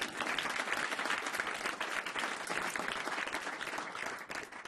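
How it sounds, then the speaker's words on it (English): A large audience applauds at a national broadcast event, a dense, continuous roar of many hands that holds steady throughout, with no one speaking over it. "and you can clap for that"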